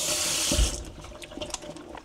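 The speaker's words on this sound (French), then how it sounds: "Ça, je vais les rincer." Strawberries and raspberries rinsed under a kitchen tap, a brief rush of running water that fades quickly into soft splashes and faint handling sounds.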